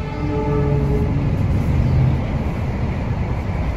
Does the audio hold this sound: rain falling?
no